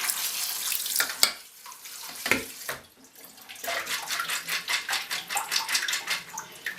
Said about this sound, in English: scoop them out, and put them into a colander. Give them a final rinse.